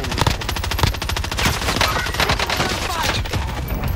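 Sustained automatic fire from a FARA 83 rifle in a video game, a dense, rapid string of loud sharp shots with only brief pauses between bursts.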